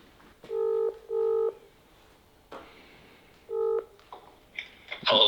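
Telephone dialing tones on a phone: three distinct keypad beeps spaced apart, loud and clear against quiet background, followed by brief faint noises.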